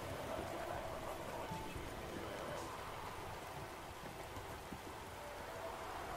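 Steady rain pattering continuously in the video game The Witcher 3: Wild Hunt, with a soft hiss of falling drops and no voices.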